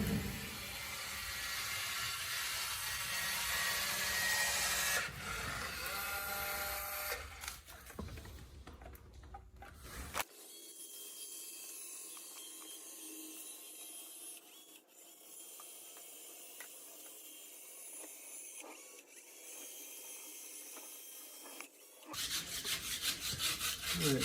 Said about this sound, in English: So you just take the scraper and gently shave them off.